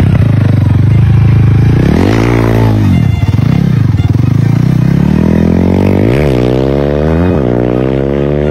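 A Rusi motorcycle engine revs loudly and close by, its rough note rising and falling in repeated bursts of throttle over a steady idle rumble.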